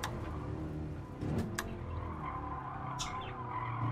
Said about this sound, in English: The engine sounds a bit, I don't know, just sounds a bit odd.